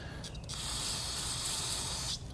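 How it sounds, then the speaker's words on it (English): Cleaner sprayed from an aerosol can onto the small screen of a generator with a surging idle, one sustained close hiss of about two seconds between short quiet gaps. "I'm going to go ahead and spray that off."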